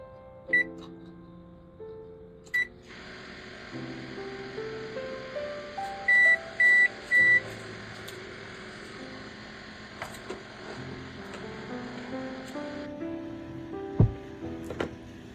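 Microwave oven running a second five-minute cycle on sticky rice: door clunks and button beeps, a steady close hum for several seconds, then three loud end beeps and the door opening, no talk.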